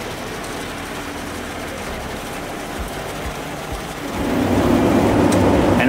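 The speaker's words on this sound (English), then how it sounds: "And now we chip it and heat a complete village with it." A Heizohack woodchipper runs outdoors with a loud, steady mechanical drone that swells and grows heavier partway through as wood goes in, while someone speaks briefly over it.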